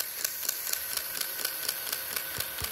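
A small one-cylinder Lego Technic engine model runs with a rapid, steady mechanical clatter of regular ticks close by, over a constant whirring hiss and with no voices.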